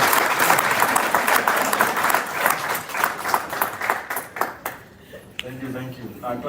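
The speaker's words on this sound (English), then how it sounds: "A round of applause" Audience applause at a brand launch event: a dense patter of clapping that thins out over several seconds, then gives way to a voice speaking near the end.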